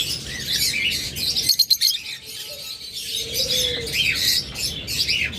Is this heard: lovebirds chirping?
yes